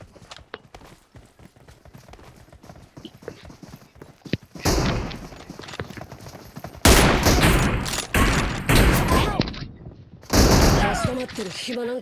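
Video game gunfire, heard as rapid volleys of loud close shots that start as sparse cracks and build into dense bursts, mixed with a voice talking.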